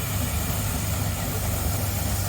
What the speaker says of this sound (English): There's Richard coming along with Gromit, McLaren engine